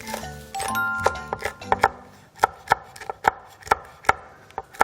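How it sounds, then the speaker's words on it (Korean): A knife chops red chili pepper on a cutting board in a home kitchen, making a steady series of crisp, close taps that come faster toward the end, with no talking. "요거 홍고추 마저 썰고"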